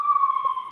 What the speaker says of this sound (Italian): Sirene.